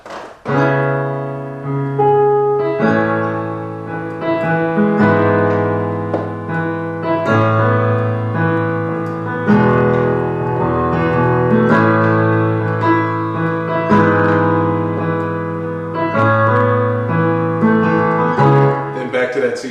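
Sustained chords of the verse of a song played over a moving bass line, rich harmonic tones changing every couple of seconds, steady and close with no voice.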